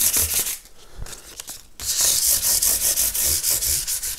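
Guitar frets on an ES-335 build are hand sanded with 800 grit paper, close, rhythmic rubbing strokes that pause briefly, then return in quick, even back-and-forth passes, with no talking.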